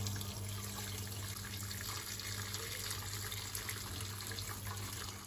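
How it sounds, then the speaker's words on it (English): Clear beef broth being slowly strained from one pot into another, a soft continuous trickle and splash of liquid, faint and steady throughout, with no voices. "we're gonna slowly strain the stock into the other pot"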